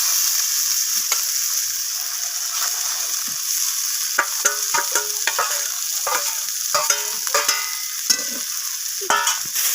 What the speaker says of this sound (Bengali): নিম পাতাগুলোকে আমি দিয়ে আরও 2-3 মিনিটের মতো এইভাবে নাড়াচাড়া করে বেগুনের সাথে ভেজে নেব